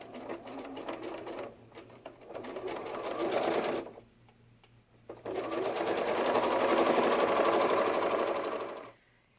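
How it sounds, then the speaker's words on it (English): A sewing machine stitches the body of a bear softie from the neck down to the bottom point, humming steadily close up in two long runs split by a short pause, with no voices. "we're going to stitch from the neck all the way down to the bottom point"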